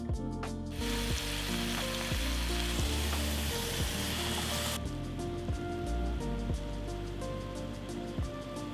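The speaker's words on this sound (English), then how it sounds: "drizzle some olive oil over the chicken and aromatics, then fry them over medium heat" Chicken and aromatics fry in olive oil in a pot over medium heat, a close, steady sizzle with a few scraping stirs and no talking.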